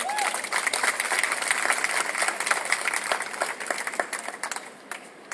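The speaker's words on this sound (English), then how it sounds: "Give her a round of applause, everyone." Sustained applause from an audience at a rally at the Michigan State Capitol, many hands clapping in a dense, even patter that fades slightly toward the end.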